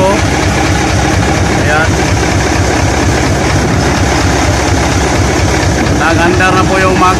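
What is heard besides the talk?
Fuso 8M20 truck engine running after repair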